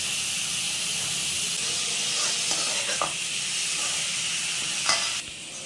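Boneless fish pieces go into a pan of vegetables. A loud, continuous sizzle and hiss fills the clip, with a few scraping stirs and clinks on top, and no voices.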